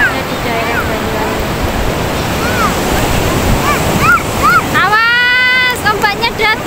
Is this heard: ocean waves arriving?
yes